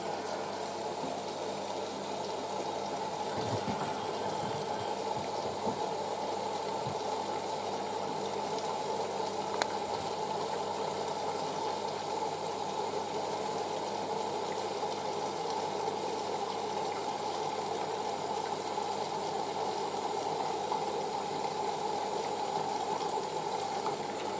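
A 1986 Hotpoint 9530 Electronic 1000 Plus washing machine filling with hot mains water on an 85°C white cotton program, a steady, faint rushing water inflow with a low mechanical hum that continues unbroken.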